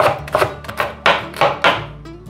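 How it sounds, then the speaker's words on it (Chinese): Celery cut with a knife on a board: about seven crisp, close chopping strikes in an uneven quick rhythm, clear and alone. "把芹菜切碎"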